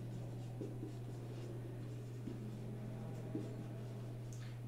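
Pen strokes scratch softly on paper or a board while a linear programming problem is written out, faint intermittent scribbles over a steady low electrical hum.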